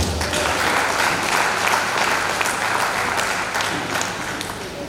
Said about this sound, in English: I think they deserve an applause.